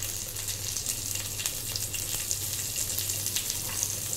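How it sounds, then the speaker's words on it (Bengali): Chopped green chillies sizzle in hot oil, a continuous close hiss with frequent small pops and crackles over a low steady hum, no speech. "তো আমার তেলটা গরম হয়ে গেছে, এবার আমি একে একে সব ভেজিটেবলসগুলো অ্যাড করে দেবো। প্রথমেই আমি লঙ্কা কুচিটা অ্যাড করছি"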